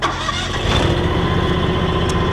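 A John Deere X700 series lawn tractor, set up with a snow thrower, cranks and catches, its engine settling into a loud, steady running drone close by.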